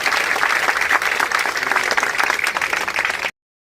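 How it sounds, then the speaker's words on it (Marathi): Loud, dense crowd applause at a public inauguration of development works by guardian minister Sanjay Shirsat in Bhimnagar, Bhavsingpura. The close, unbroken clapping lasts just over three seconds and then cuts off abruptly. "टाळ्या वाजवायच्या"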